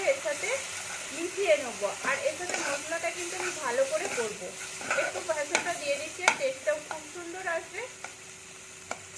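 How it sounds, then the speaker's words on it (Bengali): Spice paste (masala) for a kundri (ivy gourd) curry being stir-fried in a pan, spatula scraping in repeated close strokes over a steady sizzle, continuous throughout with faint background voice. "এটাকে এবার আমি কিন্তু ভালো করে কষে নেবো যতক্ষণ না মশলা থেকে তেল ছাড়ছে"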